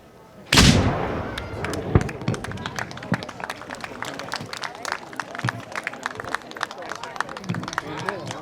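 A ceremonial militia cannon goes off with a single heavy, booming blast at a Fourth of July celebration in Fairhaven, followed by crowd chatter, scattered clapping and outdoor bustle.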